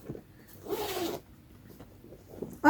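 A zipper on a large weekend bag pulls open in one quick, close rasp, alone in a quiet room.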